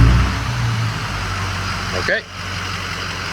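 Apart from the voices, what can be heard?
Ford Super Duty Powerstroke diesel engine starting and idling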